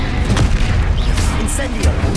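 Confringo fire spell blasts in Hogwarts Legacy gameplay, a dense low booming burst with crackling impacts that stays loud throughout, over a steady rumble of game sound.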